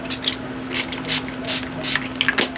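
Alcohol is sprayed from a spray bottle onto a gel plate print in a series of about six short, crisp bursts at a fairly even pace, close and clear over faint background hum.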